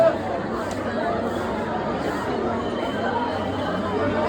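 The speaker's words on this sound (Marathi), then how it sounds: "भाविकांची गर्दी." A crowd of devotees at the Tuljapur Bhavani temple fills the air with a dense, steady babble of many voices, an unbroken hubbub at even loudness.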